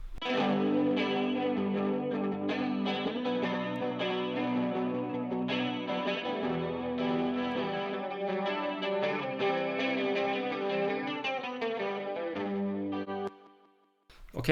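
An electric guitar in a full song mix, processed with EQ and stereo spreader effects in SD3. Steady, bright picked chords ring with a chorus-like shimmer until it fades out near the end.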